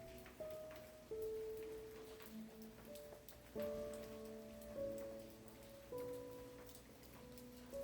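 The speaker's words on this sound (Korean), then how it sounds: "지금 밖에는 비가 추적추적 내리고 있어요." Rain falls steadily outside, a soft, even patter under gentle tonal music.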